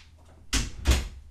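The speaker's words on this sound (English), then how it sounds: "Let me close that door." A door is pushed shut indoors, giving two quick, soft thuds close together, fairly near with no voices.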